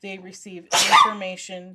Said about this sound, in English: That was an adorable sneeze.